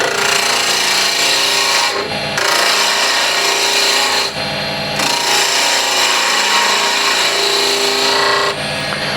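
A skew gouge cutting walnut burl on a wood lathe, giving a loud, continuous scraping hiss in long passes broken by brief pauses as the tool lifts from the spinning wood.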